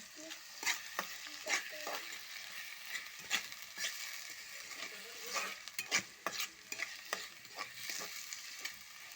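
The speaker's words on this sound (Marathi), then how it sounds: "आता ह्याच्यात टाकूया आपण टोमॅटो आणि चांगलं परतून घेऊया" Tomatoes sautéed in a pan for a soybean dish, with a soft continuous sizzle broken by frequent sharp spatula scrapes and clicks at an irregular stirring rhythm, close and without talk.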